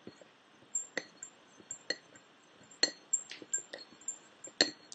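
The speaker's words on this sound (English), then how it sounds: "Now I'm going to stir this thoroughly" A utensil stirs a bioplastic mixture in a glass, giving a quick series of light, bright clinks and taps at an irregular rhythm, close and fairly quiet.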